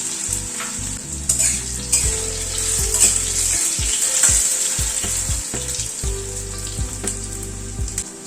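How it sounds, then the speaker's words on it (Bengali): Diced potatoes frying in oil in a pan, a loud, steady sizzle close by with low thumps and scrapes of stirring throughout, no talking. "আলুটাকে আগে একটুখানি ভেজে নেব"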